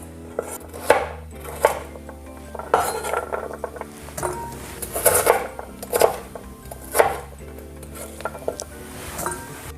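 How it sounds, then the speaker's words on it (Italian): A knife dicing celery, carrot, onion and leek on a cutting board, rapid irregular chopping taps in bursts, close and clear with no talking. "Facciamo sedano, carota, cipolla, io metto dentro anche un porro, li andiamo a tagliare in maniera, facciamo una dadolada"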